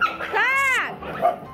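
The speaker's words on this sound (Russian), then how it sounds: "Четкая собака." A single close bark rising and falling in pitch, with a short yip trailing after it.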